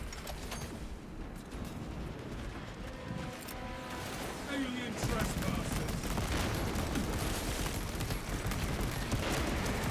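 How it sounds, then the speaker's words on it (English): Heavy bolt rifle fire from Space Marine 2 crackles in steady rapid bursts against dense combat noise, growing louder midway, while someone talks over it. "Just like this, we can shoot them from this distance."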